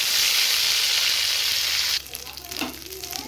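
Ginger garlic paste dropped into hot oil gives a loud, steady sizzle for about two seconds, then settles into softer crackling and stirring.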